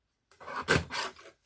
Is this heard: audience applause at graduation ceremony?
no